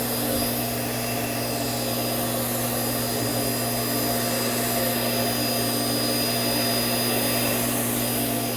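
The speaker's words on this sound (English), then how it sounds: "If you need a finer mist, you need just a little bit more air." A compressed-air sanitizer sprayer hisses out a fine mist, a loud continuous steady roar with a constant hum underneath, no talking.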